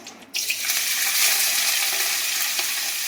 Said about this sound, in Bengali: পেঁয়াজ, পাঁচ ফোড়ন আর শুকনো লঙ্কা, এটাকে ভালো করে ভাজা করি